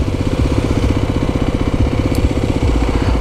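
A 2023 Kawasaki KLX300SM motorcycle engine runs nearby with a loud, steady, rapid thumping pulse and a constant low rumble, with no voices.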